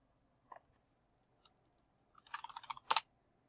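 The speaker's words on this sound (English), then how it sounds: "That's why you have to type it in like this." Typing on a computer keyboard: a couple of isolated keystrokes, then a quick run of clicking taps and a final louder clatter, close and fairly quiet with no voices.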